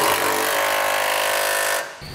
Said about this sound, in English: And for the nuts on the side, I'm using an 11/16 size socket.